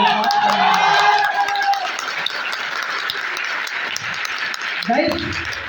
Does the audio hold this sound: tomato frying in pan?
no